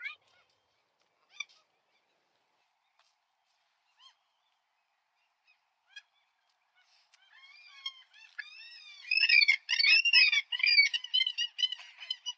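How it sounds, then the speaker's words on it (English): Geese honking at a playground, a few faint isolated calls at first, then a burst of loud overlapping honks and squawks from several birds near the end. "There's the geese. Oh, there's baby geese, Gilana."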